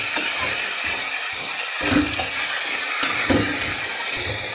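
A masala mixture for a Bengali rohu fish curry sizzles steadily in a pan while a spoon stirs through it with soft scraping, an even frying hiss running throughout with small clinks, no talking.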